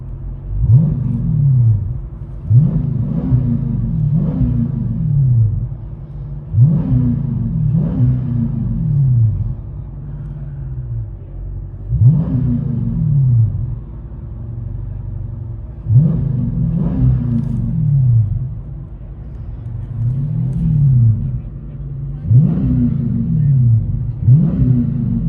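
Dodge Challenger 392 6.4L HEMI V8 with a rear-delete exhaust, heard from the cabin: deep, loud rumbling revs that swell and fall in repeated bursts, settling into a low idle burble between pulls.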